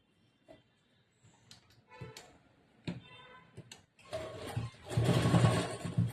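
A sewing machine stitches a blouse, starting with scattered clicks and short ticking bursts, then running into a louder, continuous whirring stretch near the end, heard up close.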